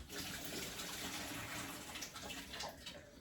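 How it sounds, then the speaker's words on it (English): Cold water runs from a kitchen tap to rinse cooked seafood in a colander, a steady faint gushing stream without pauses and no voices. "Run some cold water, stop it from cooking."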